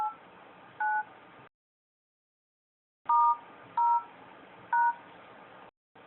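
Touch-tone keypad beeps from a phone dialer, four clear tones in two groups separated by a pause of silence, loud and close with a faint hiss under each press.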